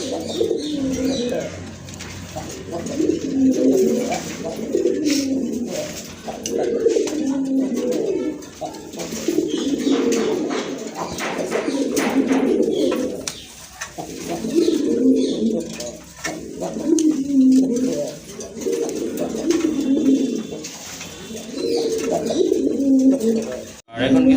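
A male and female pigeon pair coo close by in repeated, rolling, low calls throughout, joined by a few scattered chirps.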